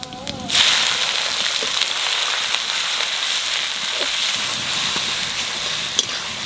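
Onions dropped into hot mustard oil with a little sugar and whole spices set off a loud, steady sizzle that bursts in and holds evenly, close by, with no talk over it.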